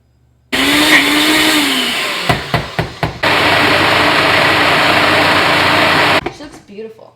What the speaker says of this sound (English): I also hate this freaking blender because I can't get from the top